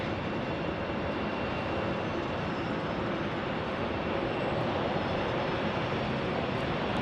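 Boeing 757 jet engines roar steadily at Phoenix Sky Harbor airport, a loud, continuous broadband rumble that holds evenly throughout without a break.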